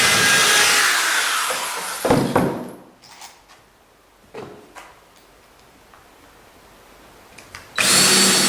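A power drill whines loudly while driving into a board on a wooden skiff, then cuts off, followed by a few scattered knocks and clicks in a quiet space before a second loud drill burst starts at the end.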